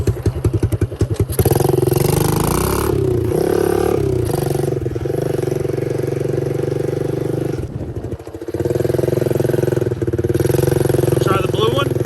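A pit bike engine idles and revs close by, loud and steady with brief dips, while people talk over it.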